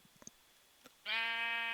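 A sheep in Minecraft 1.16.5 lets out one clear, drawn-out bleat after a few faint taps and clicks in an otherwise quiet game scene.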